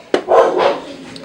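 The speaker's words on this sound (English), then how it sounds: "now they're barking at people who are walking" Dogs barking at people walking past: a single close, loud bark followed by a rough, drawn-out growling bark fading over about a second.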